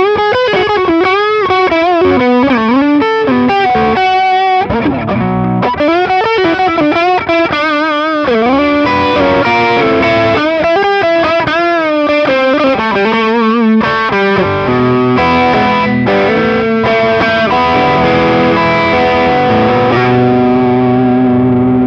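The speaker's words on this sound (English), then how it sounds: "Just crank up the distortion." Heavily distorted electric guitar playing bending, sustained notes and chords, loud and saturated, ringing out alone.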